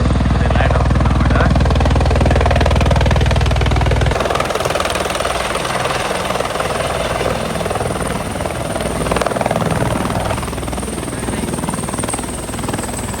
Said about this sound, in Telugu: హెలికాప్టర్ ఇప్పుడు ల్యాండ్ అవుతుంది